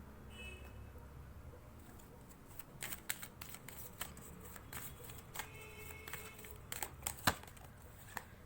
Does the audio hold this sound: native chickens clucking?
no